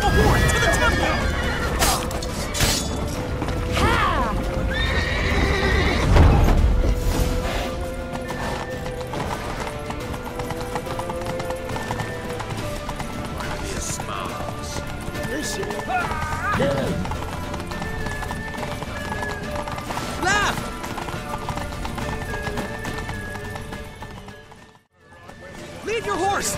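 Horse hooves clip-clop at a gallop in The Witcher 3, with whinnies rising over dense game music and shouting voices. A sharp crash sounds near the middle, and everything drops out briefly near the end.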